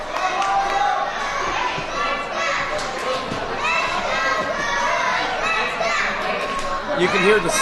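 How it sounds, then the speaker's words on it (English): Crowd at an independent wrestling show in Spokane, with small children's voices cheering and shouting amid general crowd noise, steady and loud throughout. "You can hear the small voices of children in the crowd cheering on Harley, telling him, "Let's go.""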